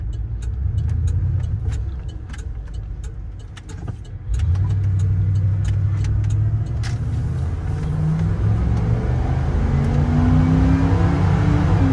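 1994 Ford F-150 XLT pickup with a 5.0 V8 and automatic transmission driving, a loud continuous engine drone and road rumble that dips, then steps up as the engine revs and gear tones rise, with no talk.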